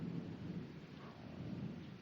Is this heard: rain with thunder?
yes